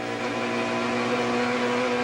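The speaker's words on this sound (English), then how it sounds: "Here that 6-litre Chev revving very hard as they come on the tri-oval" A 6-litre Chevrolet race car engine revs hard at a stock-car oval, a loud, steady, sustained drone with strong harmonic tones holding throughout, no talk over it.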